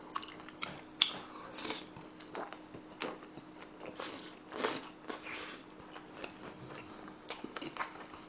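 Quiet, close chewing and wet smacking from someone eating soupy tteokbokki with chewy wheat rice cakes, soft irregular mouth sounds and one louder slurp-like burst, with no talk.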